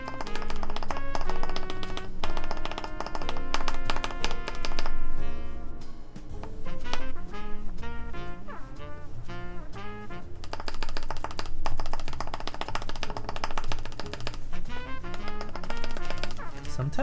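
Mechanical keyboard switches and stabilizers clacking during a Merisi Works 500c build, a steady run of dense, close taps and thocks with some brief talk mixed in.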